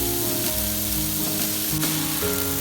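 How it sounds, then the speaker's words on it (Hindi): Ground spices and coriander powder frying in oil in a pan for dhaba-style masala bhindi, a steady close sizzle running throughout with faint background music tones and no talking. "माशाल्लाह जी, मसाले सारे हमारे फ्राई हो गए हैं।"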